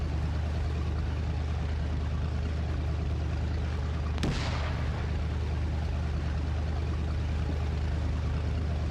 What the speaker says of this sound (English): But I think they're firing the rounds up on this boat.